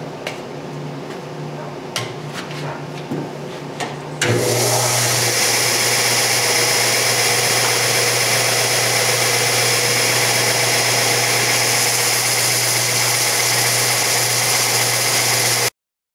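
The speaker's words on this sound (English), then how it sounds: "I'm going to click the dust collector to turn on" A woodshop dust collector switches on partway through with a sudden loud, steady roar and hum that holds evenly until it cuts off at the end, after a few quieter knocks and shop sounds before it starts.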